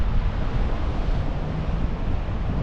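Strong, blustery wind buffets the microphone beside a wide canal in Brussels, a constant roaring rush with gusty swells and no voices.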